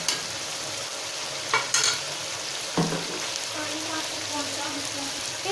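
A spoon stirs a dish in a sizzling pan for a quick sehri meal, scraping and clinking now and then over a steady frying hiss, close to the ear.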